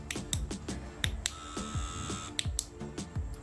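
A repaired vintage T9 electric hair trimmer runs, its small motor giving a rapid pulsing buzz with sharp clicking ticks repeating steadily, close and moderately quiet.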